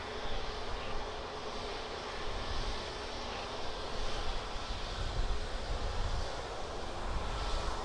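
An aircraft taxiing at Birmingham Airport, a low, steady engine rumble and broadband roar heard from some distance, mixed with wind noise and without talking.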